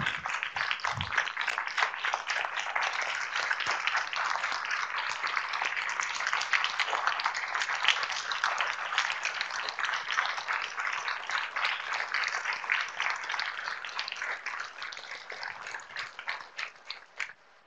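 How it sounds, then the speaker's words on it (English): An audience at a public meeting applauds panelists with sustained, dense clapping that holds steady and then fades out at the end. "can we have one more round of applause for all of our topic one panelists"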